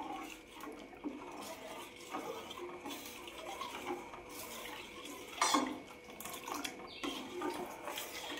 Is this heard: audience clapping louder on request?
no